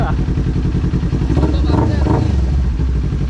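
A motorcycle engine idles and is revved nearby, a loud rumbling drone that swells a few times, with people talking over it.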